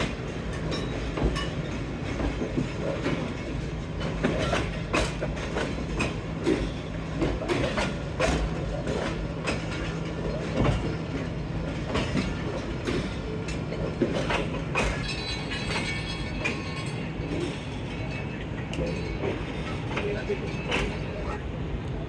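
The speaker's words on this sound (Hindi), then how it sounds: "16 डाउन कराची एक्सप्रेस का रेक प्लेस हो गया है प्लेटफार्म नंबर 4 पे" The Karachi Express train rake rolls into platform 4 at a railway station in foggy Lahore with a steady rumble, rhythmic wheel clatter and a sustained low engine drone, while someone speaks over it.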